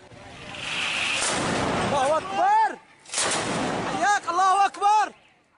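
Shelling by regime forces in rural Idlib, with heavy artillery and rocket launcher fire rolling through two long, rumbling blasts followed by ringing, echoing tones. Someone speaks over the explosions.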